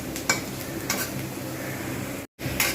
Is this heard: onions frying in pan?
yes